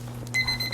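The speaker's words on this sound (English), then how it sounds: "Oh, there's the timer." A kitchen timer alarm sounds briefly, a steady high electronic tone starting partway in over a constant low hum, close and fairly loud.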